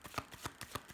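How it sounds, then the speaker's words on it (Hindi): Tarot cards being shuffled by hand, giving a quick run of soft, rhythmic riffling bursts that is faint and close with no voices over it. "One last shuffle."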